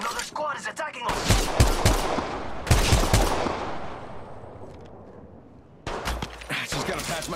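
Gunfire from an attacking squad in Apex Legends: bursts of rapid automatic shots in several clusters, loud and close, with a lingering decaying tail between volleys.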